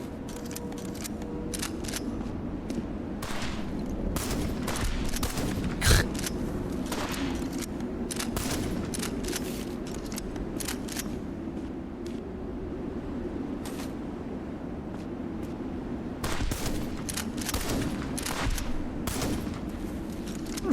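Dense video-game gunfire striking the player in Feed the Machine's Metal Garden level: rapid bursts of sharp shots in clusters over a steady droning hum, moderately loud, with no talking.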